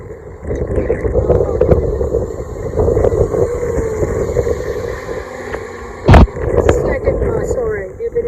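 Outdoor wind buffets a microphone at a historic slave hut site on Bonaire, a loud continuous low rumble with a sharp gust-like burst midway, while a person talks over it.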